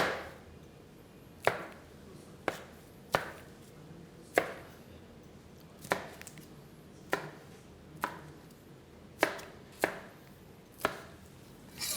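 A knife rough-chops red, green and yellow capsicum on a cutting board in a steady run of about a dozen crisp, close thuds, spaced roughly a second apart, with no talking.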